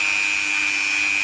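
An amazonite stone being sanded and polished at 1000 grit gives a steady, even abrasive hiss with a constant high whine running through it, close and unbroken for the whole moment.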